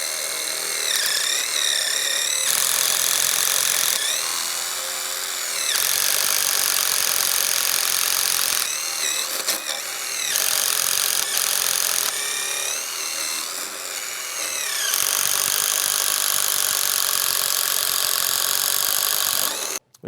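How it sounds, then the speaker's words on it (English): A drill fitted with a DeWalt right angle attachment drives a 5/8 paddle bit into wood, loud whining bursts of cutting separated by brief pauses, ending with a sudden stop. "The question is it robust enough to handle a 5/8 paddle bit?"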